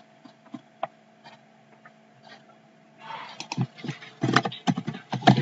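Computer keyboard typing, a few sparse faint key taps over a low mains hum, then a quick close burst of rapid irregular clacking keystrokes.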